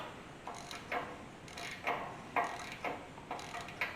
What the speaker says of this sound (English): I'm going to really slowly take this nut off